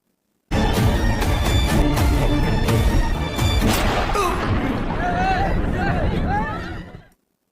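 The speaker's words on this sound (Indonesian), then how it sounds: "si pelaku tewas ditembak Prumal dari kejauhan" A film scene with loud gunfire, a dense burst of shots and booms after a sudden start, then trailing echoes and fading effects over roughly six seconds.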